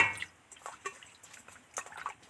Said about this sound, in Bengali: এবার এই উষুম জলটার মধ্যে কই মাছ কটা উঠিয়ে দেব।